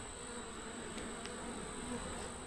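A swarm of calm bees inside a hive, humming in a soft, continuous drone at close range, with a few faint clicks and no voices.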